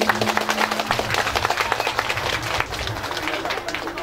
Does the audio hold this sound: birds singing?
no